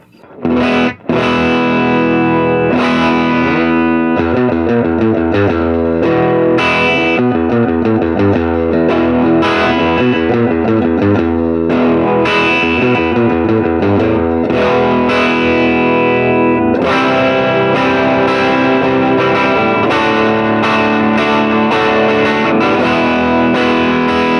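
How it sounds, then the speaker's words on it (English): A distorted electric guitar, a Reverend Contender HB, plays gritty riffs and chords through the dirty channel of a Rocker 32 amp, loud and continuous, with a short pause near the start. "switch over to the dirty channel on this Rocker 32 so we can get a little bit of grit"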